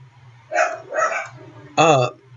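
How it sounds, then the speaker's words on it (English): Dogs bark in three sharp bursts, two quick yaps followed by a longer, higher bark, close by with a low hum underneath. "I'm sorry about my dogs if you can hear them."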